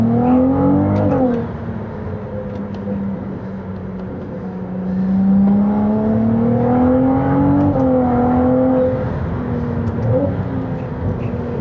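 A Ferrari 296 GTB Assetto Fiorano hybrid V6 heard from inside while driving, engine droning and rising and falling through revs with turbo whistle and electric motor whine, loud and continuous with no talking.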